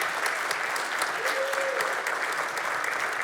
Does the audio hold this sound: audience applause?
yes